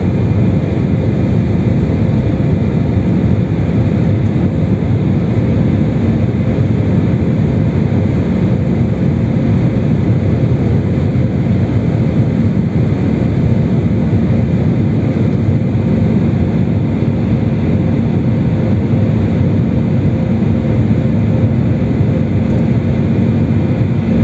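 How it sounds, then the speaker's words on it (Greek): Steady, loud roar inside the cabin of an Air France airliner climbing through clouds, a continuous broadband engine and airflow drone that holds even throughout with no speech. "Είμαστε μέσα στα σύννεφα, σε λίγο το αεροσκάφος θα βγει πάνω από τα σύννεφα."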